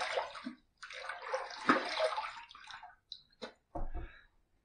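Shaving brush rinsed under a running tap: a steady hiss of flowing water for about three seconds, then a few short splashes and drips as the flow stops.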